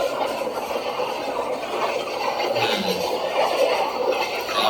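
The Rameswaram–Mirzapur Humsafar Express passes by with a steady, loud rumble and rail noise that stays even throughout.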